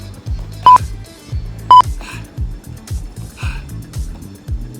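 A workout timer gives two short electronic beeps a second apart over pounding rhythmic workout music, with faint voices in the background.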